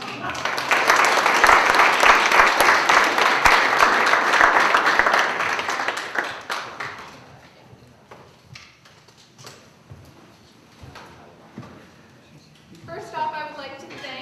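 A seated audience applauds panel speakers, a loud dense burst of clapping lasting several seconds that tapers into scattered claps, followed by quiet room noise and a brief voice.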